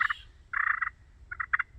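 Soft, rolling turkey-call purrs in three short, fluttering bursts, fairly quiet and close, with brief gaps between them.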